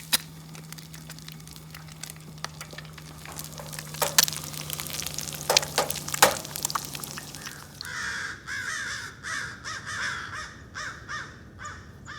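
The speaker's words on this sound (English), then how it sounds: "Those crows are after that owl up there" Crows caw repeatedly in bursts, some loud and near, some farther off, while chasing an owl at sunrise by the water. A steady hum runs underneath at first, then rhythmic harsh cawing dominates near the end.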